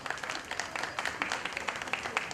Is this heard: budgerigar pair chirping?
no